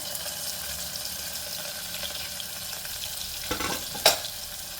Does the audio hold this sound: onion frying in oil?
yes